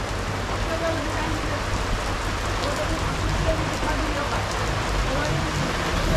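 Heavy rain pouring down steadily near a seaside road, a dense, even hiss of drops drumming on surfaces with no break throughout.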